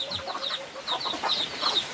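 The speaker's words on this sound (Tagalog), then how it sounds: "Alaalaga ng manok." Chickens cluck in quick, repeated bursts, several birds close by, with no talking.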